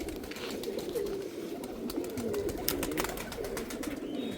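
Pigeons kept by a pigeon-flying family in Malihabad coo and murmur at close range, a soft continuous bubbling of overlapping calls with scattered clicks and flutters, no speech.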